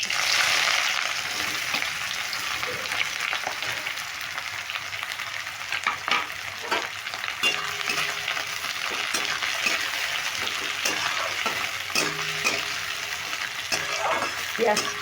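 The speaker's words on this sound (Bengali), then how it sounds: "পেঁয়াজটা দিয়ে আমি খুব ভালো করে মেরে ভেজে নেব" Chopped onions frying in hot oil in a pan for an egg tadka, with a steady soft sizzle and occasional clinks and scrapes of a spatula stirring them, heard close up.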